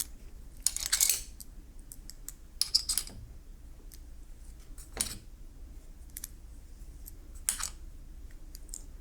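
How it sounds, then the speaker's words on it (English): Small metal screws clink and rattle in scattered bursts as they are gathered up during an inner screen repair, close and quiet, with gaps of near silence between the handfuls. "Getting all your screws here."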